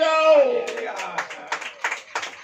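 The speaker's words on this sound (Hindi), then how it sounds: "ताली बजाओ।" A church congregation claps hands during a Hindi sermon, a handful of sharp, separate clap bursts in uneven rhythm following a sustained sung or called-out voice at the start.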